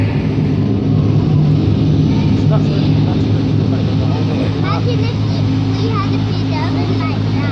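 The second charge of steel melts in an electric arc furnace at Magna in Sheffield, producing a continuous heavy roar and low rumble, loud and close, with crackling texture layered over a constant drone.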